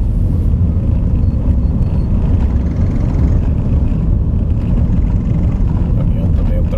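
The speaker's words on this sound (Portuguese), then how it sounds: "O caminhão também ultrapassando mais uma vez." Heavy truck overtaking on the steep BR-251 highway descent near Francisco Sá, Minas Gerais, a steady loud low rumble of engine and road noise running continuously throughout.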